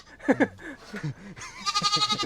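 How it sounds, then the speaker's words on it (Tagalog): A goat bleats several times nearby, loud wavering calls that end in a long quavering bleat. "Tatagbatin yung kambing yan tayo."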